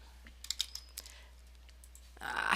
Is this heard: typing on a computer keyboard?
yes